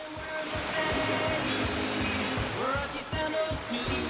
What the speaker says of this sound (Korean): 파도가 적당히 밀려와 서핑을 즐기기엔 안성맞춤.